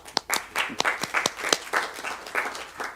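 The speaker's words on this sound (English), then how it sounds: "Let's give her a round of applause." Applause from a small group at a council general meeting, a scatter of individual sharp claps forming a brief, fairly close round that carries steadily to the end.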